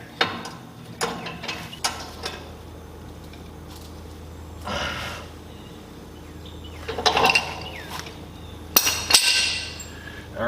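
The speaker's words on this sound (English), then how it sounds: "now you need to stick the T on there." A metal pipe tee fitted onto a 2-inch threaded nipple atop a pump while building a sealcoat spray rig: sparse metallic clinks, knocks and scraping twists, spaced out and close, without speech.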